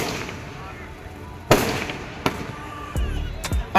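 Aerial shell fireworks at the Dewa Sharif fair burst overhead, with one sharp loud crack followed by several lighter pops and thuds at irregular intervals, over a faint background of voices.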